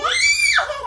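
A young child at a birthday gift unboxing lets out one long, loud, high-pitched scream that holds steady and then slides downward at the end, close by and alone.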